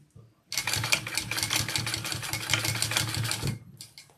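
Sewing machine running a basting stitch through fabric panels for a bucket bag, a fast even mechanical whir of needle strokes for about three seconds, close and alone, stopping abruptly.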